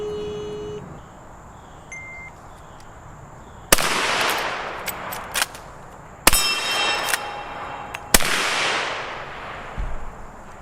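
A Citadel LevTac 92 lever-action rifle fires three loud, sharp shots, each followed by a short ringing decay, with clanks from working the lever between them and faint electronic timer beeps at the start.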